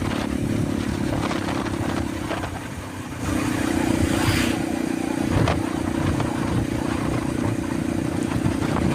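Motorcycle riding along a straight, smooth road between Pendopo and Simpang Belimbing, with a steady close engine drone, wind rush and road noise throughout and a brief dip in loudness partway.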